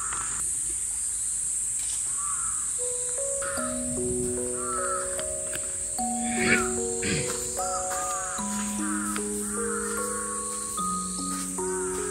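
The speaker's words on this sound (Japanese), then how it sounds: "カラスが" Crows caw near a church on Fukue Island in the Goto Islands, with repeated calls over steady insect-like buzzing and faint tonal ambient sounds throughout.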